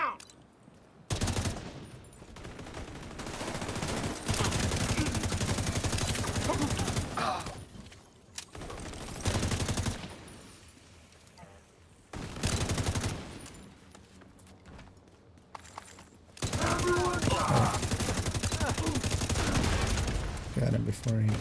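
Bursts of rapid automatic gunfire ring out in a video game shootout, dense fusillades alternating with quieter gaps, with voices talking in between.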